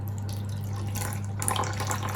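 Mineral water poured for a sourdough starter, a steady liquid stream running over a low constant hum, splashing brighter and louder near the end of the short pour.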